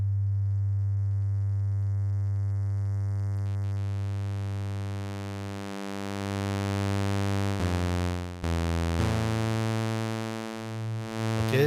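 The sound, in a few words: GForce OB-1 synthesizer triangle sine wave tone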